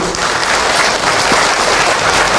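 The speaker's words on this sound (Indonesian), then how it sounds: "boleh tepuk tangan untuk Ahilman" Audience applause at an Islamic lecture (ceramah), a steady dense wash of clapping from a crowd filling the whole stretch without a break, loud and close.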